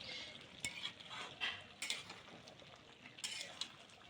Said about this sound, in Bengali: তো আমি আবারও সুন্দর করে করতেছি কি, যে একেবারে নাড়াচাড়া দিচ্ছি।